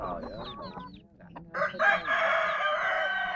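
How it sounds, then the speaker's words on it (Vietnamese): Fighting roosters cluck at close range, then one lets out a long, loud crow that fills the second half, with a brief voice heard early on. "Quay phim mấy con gà."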